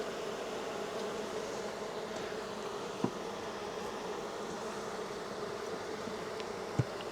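Honey bees buzzing in and around a hive while building up for queen rearing, a steady close droning hum throughout with a couple of faint clicks.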